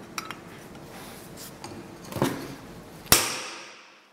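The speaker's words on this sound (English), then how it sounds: "I'm using the heck out of that particular punch there" A metal punch is struck against a crash-damaged BMW body panel during repair: a few light taps, then one sharp loud metallic strike near the end that rings and decays.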